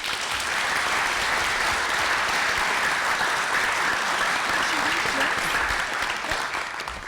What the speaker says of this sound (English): Everybody give a round of applause for our candidates.